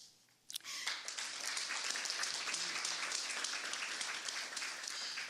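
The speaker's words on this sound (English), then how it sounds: "certainly this is worthy of an applause" An audience applauds at a financial-sector fireside chat, with the clapping starting abruptly after a brief quiet moment and then holding dense and even to the end.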